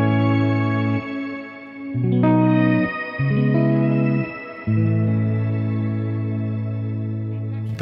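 Electric guitar through a Boss RV-6 shimmer reverb with the tone control raised, held chords changing every second or so while brighter added tones ring above them, close and clear with no talk.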